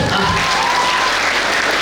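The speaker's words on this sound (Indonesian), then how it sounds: "Tepuk tangan dulu." Dense, continuous applause from a seminar audience fills the whole moment, with no pauses in the clapping.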